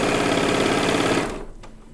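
A sewing machine runs steadily and close up as it stitches a quilt seam, a dense rapid mechanical chatter that stops abruptly near the end, leaving quieter room sound.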